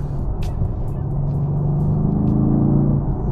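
A 2018 Mercedes-AMG GTR engine idling and rumbling from close by with a deep, steady low drone that builds slightly, broken by a few brief higher clicks.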